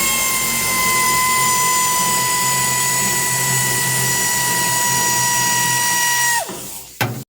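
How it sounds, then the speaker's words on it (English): An air ratchet spins bolts off a 1968 Ford truck with a loud, steady high-pitched whine that holds for about six seconds, then winds down and stops abruptly. "Good old-fashioned air ratchet here, getting the job done."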